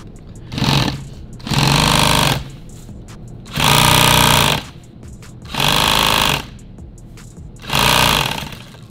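A sewing machine tacking down a nylon magazine pouch runs in five loud, rapid bursts of about a second each, separated by short pauses.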